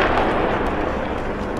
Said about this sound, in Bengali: বৃষ্টির মতো হামলে পড়ে কামানের গোলা,